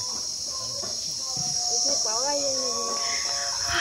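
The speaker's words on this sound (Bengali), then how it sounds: "ও প্রচন্ড ঝিঝি পোকা ডাকছে।" Crickets in a rural village on a hot day make a steady, shrill, continuous chirring drone, with a brief voice heard over it partway through.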